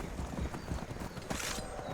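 Horse hooves in the video game Skyrim, a steady, rapid clip-clop of a horse in motion, loud and up close, with a brief burst of brighter noise partway through.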